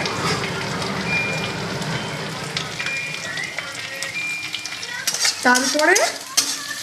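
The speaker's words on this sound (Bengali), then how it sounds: "পেঁয়াজ রসুন দিয়ে মশলাটাকে ভালো করে ভেজে নিতে হবে" Onion, garlic, cumin seeds and bay leaf fry with spice masala in a pan, a continuous close sizzle with rhythmic stirring and scraping, ending in a few louder utensil clatters.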